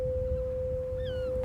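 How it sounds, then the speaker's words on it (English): A foghorn sounds over the sea through thick fog, a single steady, thin, distant tone held throughout, faint and somewhat timid against soft outdoor ambience. "It's the foghorn. There's a bit of a timid foghorn."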